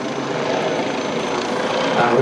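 Helicopter flying an aerobatic freestyle routine at the ILA 2014 airshow, a steady, dense rotor and engine roar holding at a constant level throughout.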